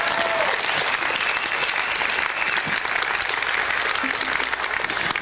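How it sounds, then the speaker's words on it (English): A crowd applauds steadily and loudly, a dense wash of clapping that carries on without a break. "Give him a round of applause."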